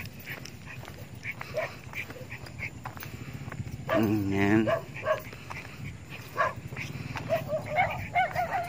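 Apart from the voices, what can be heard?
dogs barking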